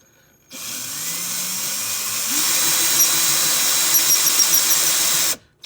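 An RCBS handheld case neck turning tool cuts the neck of a .223 brass case chucked in a power drill, a steady whining drone with a rising pitch step partway through and faint metallic squeaks, running alone for about five seconds.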